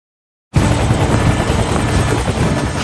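A Chinook helicopter flying, heard as a loud, steady rotor thrum with rapid blade chop that starts abruptly after a brief silence and holds constant without speech.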